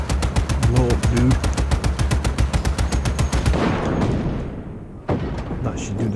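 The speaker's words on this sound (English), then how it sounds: "you got 20 seconds to blow up any remaining objects with your guns, grenades, or whatever" Loud, rapid automatic gunfire rattles steadily in Just Cause 3, then gives way to a rumbling explosion and a second sharp blast near the end.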